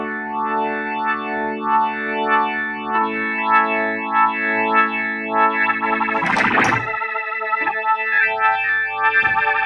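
A Kurzweil SP6-7 stage keyboard plays a slightly grainy organ patch through chorus and distortion effects, sustained chords with a swirling, pulsing modulation, a brief noisy burst midway, then held notes again.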